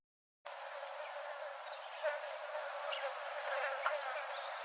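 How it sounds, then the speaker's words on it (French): A recording of female cicadas clicking plays loud and steady after a short silence, with a dense buzzing, chirring texture and faint clicks scattered through it. "elles imitent les cliquetis des femelles cigales de plusieurs espèces différentes"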